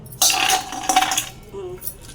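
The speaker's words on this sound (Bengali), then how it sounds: "এবার আমরা বড়িটা পাটায় ফেলে বেটে নেব" Dried lentil dumplings (bori) crushed on a flat stone grinding slab, giving close, sharp clattering and scraping bursts, a strong one then a second, followed by fainter rubbing, with no talking.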